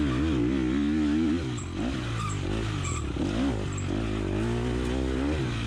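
Four-stroke 250 dirt bike engine ridden through the 2020 Cherokee enduro course, droning steadily and close, its pitch rising and falling with throttle changes and shifts, with no talk over it.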